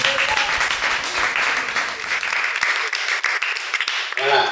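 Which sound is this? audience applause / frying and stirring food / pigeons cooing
audience applause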